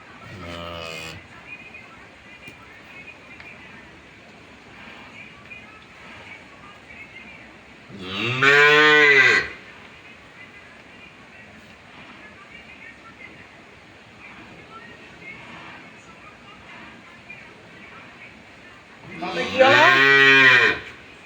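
A cow lets out loud, drawn-out moos, three of them spaced widely apart, nearby over a quiet steady background.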